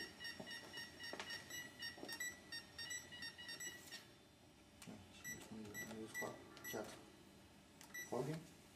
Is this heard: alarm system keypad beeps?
yes